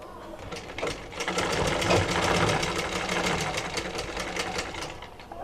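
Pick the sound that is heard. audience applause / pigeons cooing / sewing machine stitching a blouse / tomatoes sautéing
sewing machine stitching a blouse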